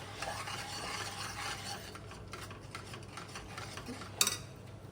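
A spoon stirs batter in a pan of hot ghee while making malai modak, with soft, irregular scraping and gentle sizzling at close range and a sharper metallic clink near the end.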